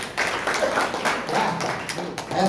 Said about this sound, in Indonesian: Ayo tepuk tangan yang mau.